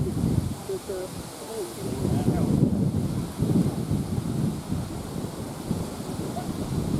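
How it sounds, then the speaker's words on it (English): Steady outdoor wind buffeting a microphone in a garden, a continuous low rumbling roar that swells and eases, with faint voices and rustling beneath it. "Come on, wind, just die down a little bit."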